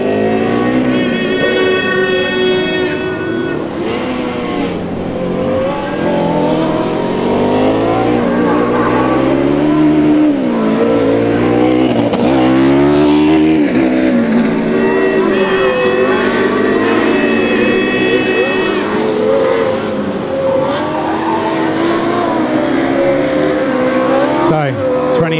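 Formula Student race cars scream past one after another during an endurance race in Germany, engines rising and falling as they pass, with a commentator talking over the noise throughout.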